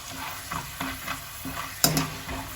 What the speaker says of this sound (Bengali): বাদামটা আমি একটুখানি সময় নাড়িয়ে নিয়েছি এবার এর মধ্যে আমি কটা কাজু দিয়ে দিচ্ছি